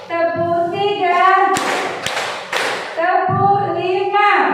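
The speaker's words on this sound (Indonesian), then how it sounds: "Tepuk 1, tepuk 2, tepuk 3" A classroom clapping exercise with a teacher and pupils: a few sharp, loud hand claps in quick succession, set between stretches of sung or chanted voices.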